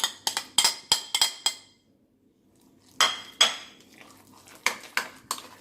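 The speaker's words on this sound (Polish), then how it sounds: "To łyżką dobrze zmieszamy" A spoon stirs oat cookie batter with banana in a bowl, making quick bursts of bright clinks and scrapes against the bowl. After a short pause near the middle, a second run of clinking follows.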